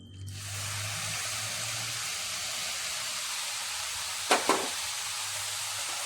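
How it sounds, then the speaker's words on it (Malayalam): Jaggery syrup pours through a sieve into roasted semolina with a steady, soft hiss and sizzle, broken by two quick metallic clinks near the end. "ഇനി ഇതിലേക്ക് ശർക്കര പാനി ഒഴിച്ചു കൊടുക്കാം. ഒരു അരിപ്പിൽ കൂടെ അരിച്ചൊഴിച്ചു കൊടുക്കാം."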